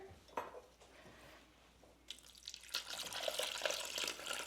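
Water is poured into a Thermomix bowl, a faint clink first and then a growing, splashy rush of liquid that fills the second half, close and fairly quiet.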